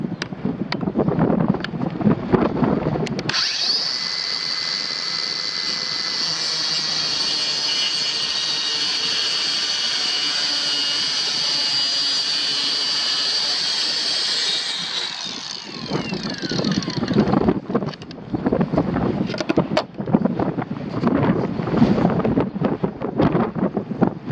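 Kobalt 24-volt Max 4-inch brushless cordless circular saw, model KMC 124B-03, cutting through plywood: a loud steady high whine holds for about twelve seconds, with noisy handling and wind-like rumble before and after.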